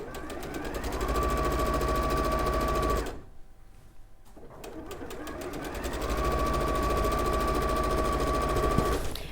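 A sewing machine runs steadily, stitching a hem on a jersey skirt along the folded top edge, its loud rapid mechanical whir stopping briefly for a second or so before starting up again at the same even pace.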